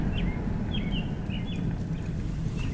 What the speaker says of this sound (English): That bird's loud.